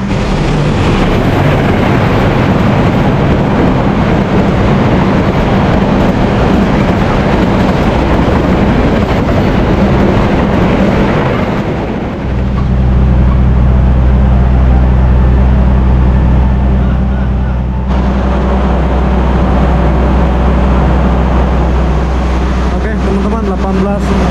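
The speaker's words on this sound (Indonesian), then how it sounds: "Kereta api Jayabaya menuju Semarang Poncol tiba di stasiun Cikampek." The Jayabaya economy New Generation train pulls into Cikampek station on its way to Semarang Poncol, with a loud continuous rumble that shifts abruptly in character about halfway through and stays heavy and close.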